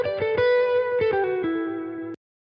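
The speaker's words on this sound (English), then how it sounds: "I'll put the reverb back on." A Chapman ML1 Norseman 2018 electric guitar rings out with a distorted, effects-heavy tone, several picked notes sustaining under a wash of reverb before cutting to silence.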